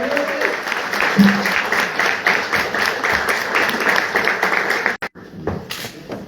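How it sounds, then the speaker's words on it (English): An audience at a mayoral candidate forum claps in a dense, fairly loud round of applause that carries on steadily, then drops off abruptly near the end with a few scattered claps. "If you all could please give these ladies a round of applause."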